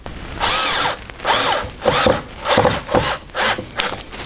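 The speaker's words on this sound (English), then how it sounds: "And put a couple of screws in from the underside." A Festool power drill drives screws into the underside of a wooden bench during assembly, sounding as six short, loud whirring bursts with rising and falling motor whine, separated by brief pauses, with no talking.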